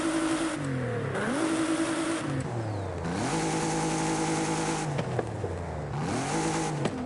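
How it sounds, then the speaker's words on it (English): A car fitted with a sport exhaust in Forza Horizon 5, its engine revving hard and continuously, pitch climbing and dropping through repeated rev sweeps and gear changes, loud and close throughout. "I like the sound of the sport exhaust, to be fair."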